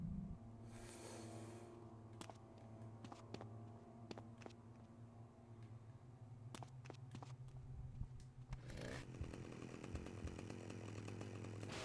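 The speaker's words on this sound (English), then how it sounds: "Chainsaw makes noise when its engine is running." Chainsaw engine in the Manhunt video game, idling steadily with a low rumble, punctuated by sharp clicks and thuds, then revving louder near the end.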